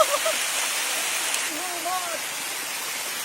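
River water flows steadily as a broad, even rush that fills the whole clip, with faint whistle-like tones briefly over it partway through.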